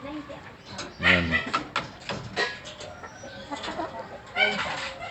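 Super Brown Red hens and pullets, about six months old, cluck in a cage in short, irregular calls over a steady background, with someone talking throughout.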